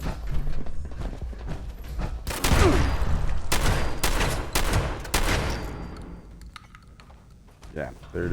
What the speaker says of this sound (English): Grenade rounds. Alright, there it is. The grenade launcher. M97.